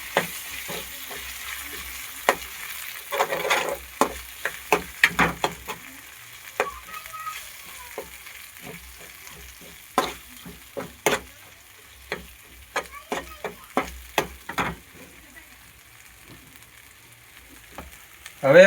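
Turmeric, coriander-cumin powder and red chili are stirred in a frying pan for Gujarati dal, giving a low sizzle with frequent crisp scrapes and clicks of a spoon against the pan, close and unaccompanied.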